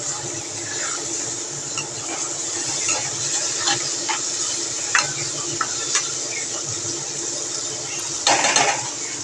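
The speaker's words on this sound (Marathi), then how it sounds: "आणि अख्खा मसालासुद्धा दोन मिनटं आपण त्याच्यामध्ये परतून घेऊया" Whole spices and whole masoor lentils sauté in a hot pan, giving a steady, close sizzle with occasional light scrapes and taps from stirring.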